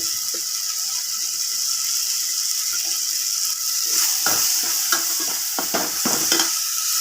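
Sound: spices frying in a pan for squid curry

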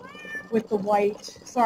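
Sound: cat meowing

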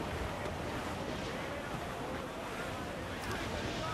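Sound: sailing ship on the waves in Assassin's Creed IV: Black Flag video game

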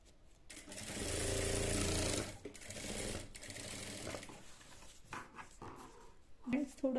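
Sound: sewing machine stitching a V-neck collar

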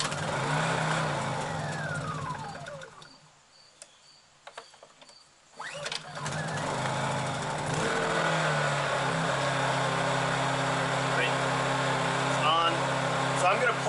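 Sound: portable generator starting and running with choke on

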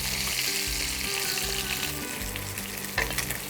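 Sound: fish frying in oil

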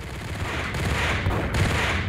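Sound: gunfire in the video game Max Payne

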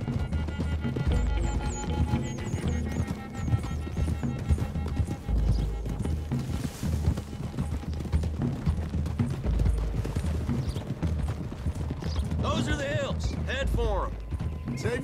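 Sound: horses' hooves clip-clopping, from video game Red Dead Redemption 2

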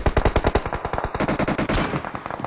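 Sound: gunfire in video game PUBG Mobile

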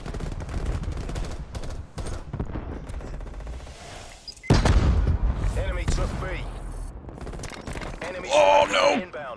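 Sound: grenade and gunfire in video game Call of Duty: Black Ops Cold War

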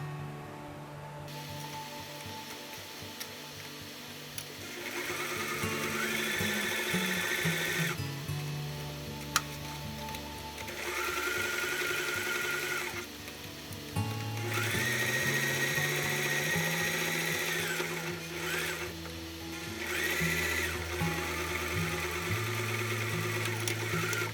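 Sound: sewing machine stitching fabric for a round drawstring makeup bag

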